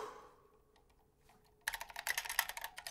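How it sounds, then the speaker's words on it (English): Typing on a Drop Mercury Rocketeer keyboard with an unlubed aluminum plate, Halo True switches and SA keycaps: after a quiet stretch, a fast flurry of close, crisp key clacks begins and continues to the end. "This is the Mercury Rocketeer unlubed aluminum plate Halo true switches"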